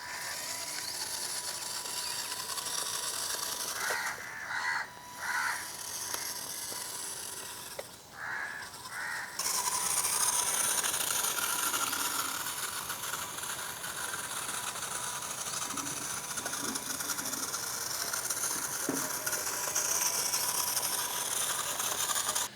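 A homemade RC Swaraj 855 tractor runs with a steady, fairly faint mechanical whir and ratcheting gear chatter that holds throughout, broken by a few brief interruptions.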